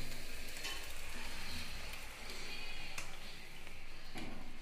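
Spice paste sizzles in a hot pan while cooking palak paneer at home, a continuous moderate frying hiss with a few brief clinks and stirring scrapes.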